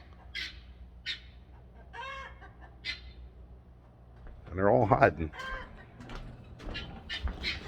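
Chickens cluck and squawk in alarm in short bursts nearby, growing louder and busier midway, while someone talks briefly.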